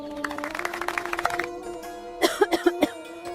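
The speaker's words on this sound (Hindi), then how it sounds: "कुछ नहीं बेटी, बस हल्की सी खांसी है।" A woman gives a quick run of about four short, close coughs near the end, after a stretch of tonal background sound.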